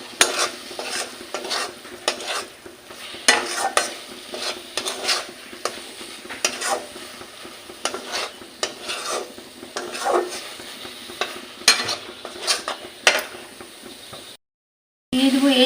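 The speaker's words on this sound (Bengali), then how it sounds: "ভালো করে নাড়াচাড়া করে নেব।" A spoon stirring and scraping a carrot sweet (gajorer mishti) mixture with ghee in a frying pan, repeated rhythmic scrapes over a soft sizzle, close and clear, ending in a brief silence and then a short clatter.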